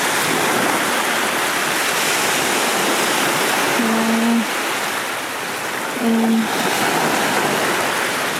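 Sea waves wash continuously onto a shore near a Chanthaburi cafe, a broad steady roar with faint voices briefly murmuring over it.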